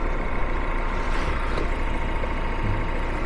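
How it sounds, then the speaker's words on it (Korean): A new Chevrolet Malibu 2.0 GDI turbo converted to LPG runs with a steady, low engine rumble without a break, even and continuous, with no talking over it. "새 차라서 그런지 엔진 소리 정말"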